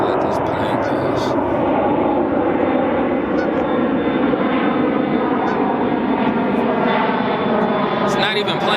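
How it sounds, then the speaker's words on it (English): An airplane passes overhead, a loud, steady broadband engine roar that fills the whole stretch without fading, with some faint high clicks over it. "I'll let this plane pass."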